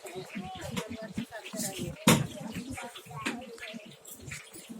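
Water is poured out during a household ritual, a splashing trickle with brief louder gushes, mixed under people talking nearby.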